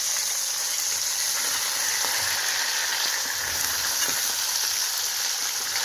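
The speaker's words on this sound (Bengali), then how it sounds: "একটু হালকা করে ভেজে তুলে নিলাম" Food lightly frying in a pan on a wood-fired clay stove in winter, a constant even hiss of hot oil, close and fairly loud, with no voices.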